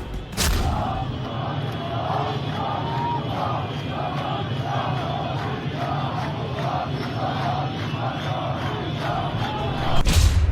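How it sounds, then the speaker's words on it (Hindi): A large crowd of protesters fills a Tehran street, chanting slogans in a steady, rhythmic unison roar that carries on without a break, loud and close, with no separate voice standing out. "वहां भीड़ नारे लगा रही है।"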